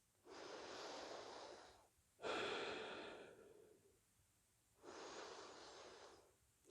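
Slow yoga breathing, three long airy breaths through the nose, each lasting a couple of seconds with quiet gaps between, close but faint, no talking.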